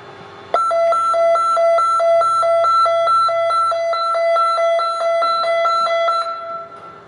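An addressable fire alarm control panel sounds a rapid, steady two-tone electronic beeping, loud and close, running for about six seconds before cutting off.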